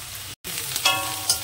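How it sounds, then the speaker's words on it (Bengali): Onions fry in oil for a prawn malai curry, a close, steady sizzle that cuts out for an instant and then returns with a couple of brighter spatters. "পেঁয়াজটা ভাজা হতে দেখুন"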